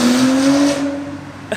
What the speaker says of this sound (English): That's my neighbor Mark with the NSX.